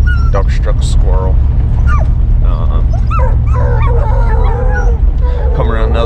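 Out in the woods, a hunting dog is on a squirrel and keeps up a run of loud yips, whines and bawling barks for the whole stretch. The calls come at an uneven rhythm over steady background noise.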